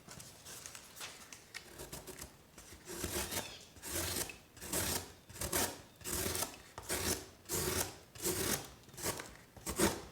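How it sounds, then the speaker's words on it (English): Bark River knife blade slicing through thick cardboard, a rhythmic series of close, rasping scrapes, roughly one per second, fairly quiet. "Cut a piece of cardboard here"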